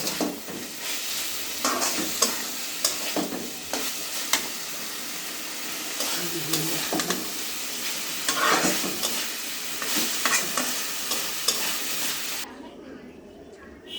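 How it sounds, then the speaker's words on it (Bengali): Eggplant curry with dried fish being stirred in a pan, with a crackling sizzle and repeated spatula scrapes, overlaid by occasional talk, ending abruptly. "দিয়ে একদম নেড়ে চেড়ে মিক্স করে তরকারিটা নামিয়ে নেব।"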